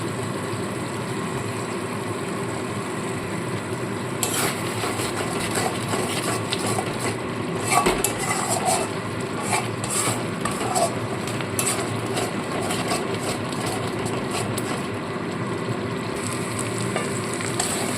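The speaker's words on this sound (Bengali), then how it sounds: "মশলা খুব ভালো মতো কষানো হয়ে গেছে" Spices and cashew nuts sizzling and frying in a pan as the stuffing for a vegetarian stuffed pointed gourd dish is cooked, a steady hiss with scattered scraping stir strokes, close and moderately loud.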